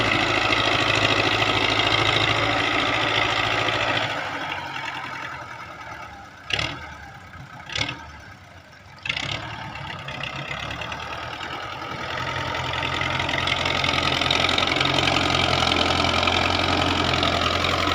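A tractor engine idles steadily nearby on a farm, its low rumble dipping briefly in the middle, where a few sharp clanks sound, before returning to a full steady drone.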